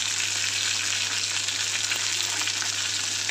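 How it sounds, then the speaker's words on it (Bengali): Tilapia fish fries in a pan, a dense, even, loud sizzle that holds steady throughout over a low constant hum, no voices. "মাছটা বেশ লাল লাল করে একটু ভাজলে খেতে ভালো লাগে।"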